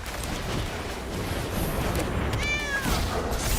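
A cat meows once, a clear rising-falling call over a noisy room-tone background, near and alone without speech.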